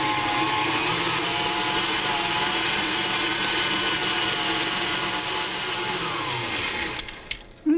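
Cake mix is whisked, apparently by an electric mixer, with a loud, continuous whirring drone held at close range for about seven seconds before it winds down and stops with a few clunks.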